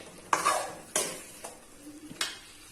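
Masala sautés in oil in a pan, stirred with a spoon in four distinct scraping strokes, each a sharp swish over a faint sizzle, close and clear, with no talking.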